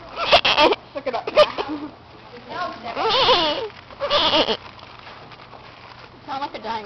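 A person's voice imitates a horse's whinny but comes out as thin, squeaky, mouse-like bleats in several short bursts, close and loud, with a steady low hum underneath.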